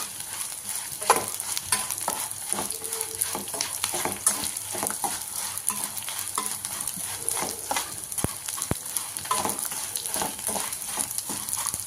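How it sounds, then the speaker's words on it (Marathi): Edible gum (dink) frying crisp in hot oil in a pan, a continuous sizzle broken by frequent stirring scrapes and small crackling pops, with a couple of sharper knocks near the end and no talking. "आपल्याला खरपूस हा डिंक तळून घ्यायचा आहे"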